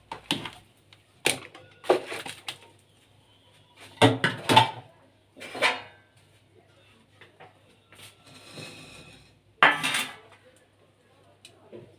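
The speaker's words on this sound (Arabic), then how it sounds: "غادي نجيبو ديال الصينيه ديالنا اللي غتدخل معنا للفرن." Clattering metal baking tray being handled in a home kitchen while preparing Egyptian baklava for the oven, several sharp separate clanks and scrapes spaced across the clip with quiet gaps between.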